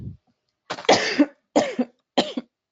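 A person coughs in a short fit: one brief throat sound, then three harsh, loud coughs in an uneven rhythm, close to the microphone against an otherwise silent background.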